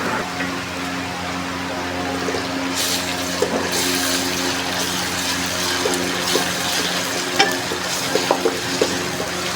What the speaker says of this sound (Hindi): चम्मच चलाते हुए अदरक और लहसुन को भी 1 से 2 मिनट भून लेंगे